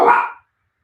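A single short, loud dog bark close by, cut off abruptly and followed by silence.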